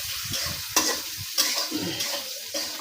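Chopped garlic, onion, green chili and salt sizzle in oil as leafy greens are stirred in, with scraping strokes of a spatula at a steady rhythm, close and continuous.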